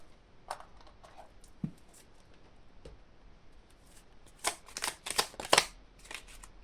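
Small oracle cards are shuffled in quiet bursts, with soft scattered flicks early on and a denser flurry of crisp riffling near the end, close up and with no talk.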